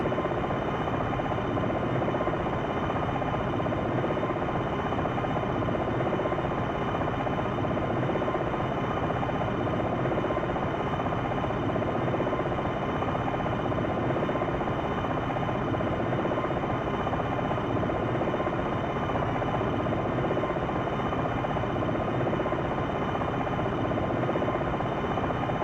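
A helicopter in the Jane's Longbow Gold flight game drones on in a steady, unbroken rotor and engine buzz, loud and constant for the whole stretch, with no voices.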